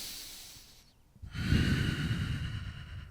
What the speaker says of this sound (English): Take a breath here.